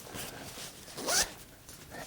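A zipper pulled once on the pocket of an Osprey Duro 6 running vest, a short, close, scratchy rasp in a quiet room.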